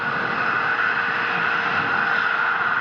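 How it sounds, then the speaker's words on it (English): First stage engines of a rocket fire during a cargo launch from Japan to the International Space Station, a continuous, even, broadband roar that holds steady without pause. "First stage engines are continuing to fire"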